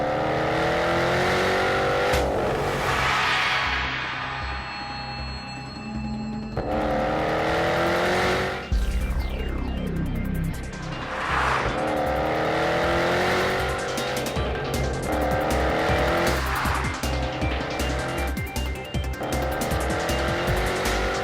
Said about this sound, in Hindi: वो है जैगुआर F-Type V8 8 सिलेंडर का इंजन।